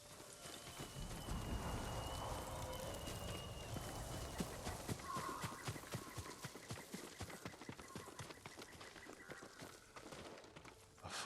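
Horse hooves clip-clopping steadily across ground in a Ghost of Tsushima stable area, a farm horse with a samurai lord's saddle, with a faint whinny, continuous and fairly close, no talking.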